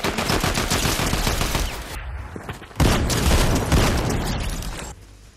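Rapid bursts of air bullets fired by Dyson in the game Grim Gate crackle loud and close in two sustained volleys separated by a short lull, then cut off.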